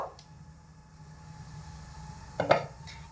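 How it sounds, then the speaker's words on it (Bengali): The lid lifted off a pot of boiled green plantains gives a single short metallic clatter near the end, after quiet kitchen background hum. "তো এবার ঢাকনাটা খুলে দেব।"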